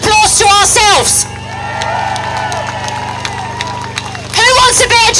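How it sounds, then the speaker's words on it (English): A crowd at a Pink Ladies protest in London applauds and cheers for about three seconds, a broad steady roar of clapping framed by loud talk before and after. "Let's give a round of applause to ourselves."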